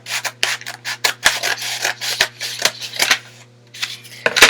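Cutting a tube by hand to build the frame of a model ornithopter, a close, steady series of rough rasping cuts and snips in quick repeated strokes, with a faint constant hum underneath.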